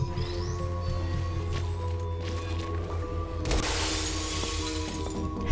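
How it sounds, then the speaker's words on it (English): Glass shattering in the game Portal Stories: Mel, a sudden bright crash of breaking panes with a spray of tinkling fragments over a steady humming game soundscape. "The glass broke."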